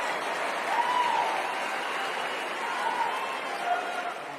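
An audience at a TPUSA event applauds in a steady wash of clapping, with a few cheers rising from the crowd.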